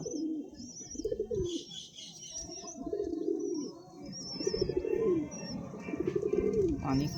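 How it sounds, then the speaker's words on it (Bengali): Pigeons in a loft coo repeatedly in rolling, throaty phrases, fairly close and clear, with faint higher chirps over the top. "পায়রাটাই খাচ্ছে।"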